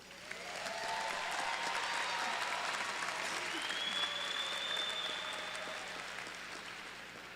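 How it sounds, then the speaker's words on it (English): Audience applause at a community college commencement ceremony, a broad, even wash of clapping from a large crowd heard at moderate distance, swelling and then slowly fading. "So I think we should all give ourselves another round of applause for this."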